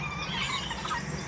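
A female guinea fowl calls close by in a quick, continuous, scratchy chatter, with no talking over it.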